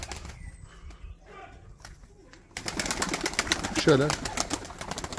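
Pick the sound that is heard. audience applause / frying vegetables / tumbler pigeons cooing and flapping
tumbler pigeons cooing and flapping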